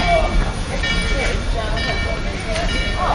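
Durango and Silverton steam train locomotive 482 rumbles away at a railfest, a steady loud rolling drone with a faint whistle-like tone, with people's voices heard over it.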